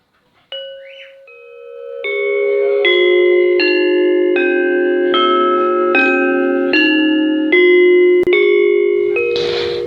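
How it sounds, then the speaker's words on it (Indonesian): A demung, a bronze Javanese gamelan metallophone, is struck about a dozen times in a slow, even sequence. Each bright, ringing note sustains and overlaps the next, close and clear, with no talk. "Berikut adalah contoh bunyi dari demung."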